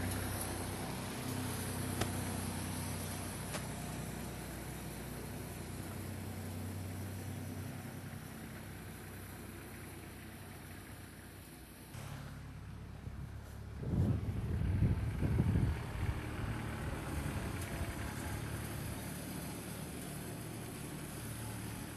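A tractor idles steadily with a PTO-driven, three-point-hitch Agrex fertilizer spreader, a faint continuous engine drone outdoors with some wind buffeting and a brief louder low rumble partway through.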